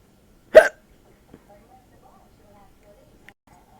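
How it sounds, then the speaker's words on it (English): A single sharp, loud hiccup bursts out near the start, followed by near silence with a few faint clicks and small noises. "I have the hiccups."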